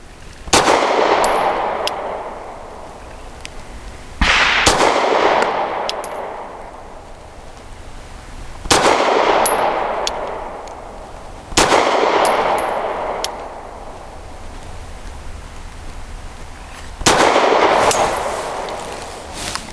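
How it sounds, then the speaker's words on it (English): Grand Power P1 Ultra pistol fired with Colt / Double Tap ammunition at 7 yards: five loud, sharp single shots spaced several seconds apart, each followed by a ringing decay, with no talk. "We're shooting from 7 yards"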